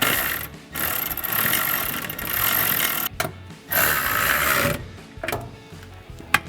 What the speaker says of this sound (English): take a 13mm socket to tighten down these 2